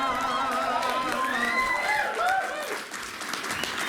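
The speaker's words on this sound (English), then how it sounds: "you're whooping and you're cheering and you're clapping and you're going wild" Audience at a cabaret show in Cardiff whooping, cheering and clapping together, with lively whistles and shouts rising over dense applause, close and loud, then easing off slightly.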